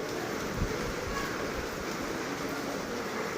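Steady rain coming down outdoors during a downpour, a continuous broadband hiss with soft low thumps, no talking over it.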